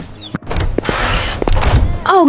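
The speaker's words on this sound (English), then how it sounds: "Knock!" A cartoon knock on a rescue hut door, a few dull thumps in quick succession, with a brief voice and chirping at the edges.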